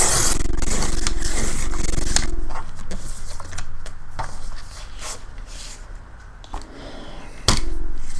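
Scissors cut through material for a note pad cover at close range, giving repeated crisp snipping and scraping strokes, loud at first and then quieter and more scattered, with no one speaking.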